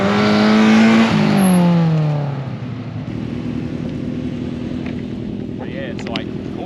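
A Toyota Supra tarmac rally car in Perth roars past close by, its engine note dropping sharply as it goes by, then trailing off into a steady rumble of other engine noise.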